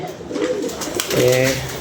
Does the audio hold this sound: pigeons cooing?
yes